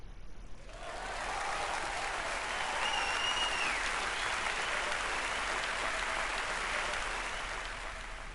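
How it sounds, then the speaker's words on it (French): An audience in an anime scene breaks into a big, sustained wave of applause that swells in after a quiet moment and holds evenly, with a faint tone drifting over the clapping. "Il y a eu une grande vague d'applaudissements."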